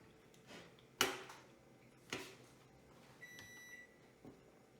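A kitchen oven timer beeps in a short, faint, high-pitched tone late in the clip, following a couple of soft clunks in a quiet room.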